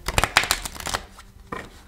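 Oracle cards being shuffled by hand, a quick burst of close riffling flutters followed by a short pause and one last soft shuffle.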